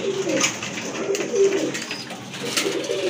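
Racing pigeons coo softly and repeatedly, low rolling calls rising and falling at close range over a faint background hum.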